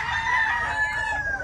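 A white Kelso stag rooster crows close by in one long, drawn-out call, loud over a low outdoor background with no talk.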